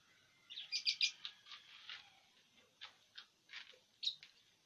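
Lovebirds chirping in breeding cages at a bird farm, a run of short, bright tweets and calls in quick bursts, fairly faint, with a louder chirp near the end.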